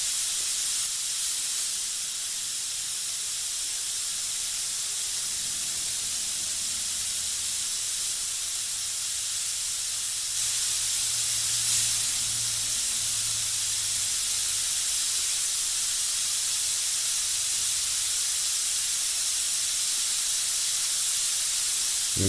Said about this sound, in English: Remember, this airbrush is extremely responsive, so it's going to do exactly what you tell it to do.